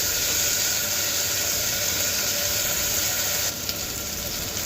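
Tomatoes and vegetables sizzling in a pan for masala khichdi, a steady close hiss of frying that holds evenly throughout and dips slightly near the end.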